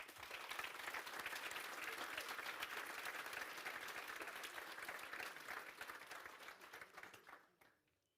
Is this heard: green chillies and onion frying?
no